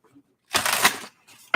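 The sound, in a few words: shuffling tarot cards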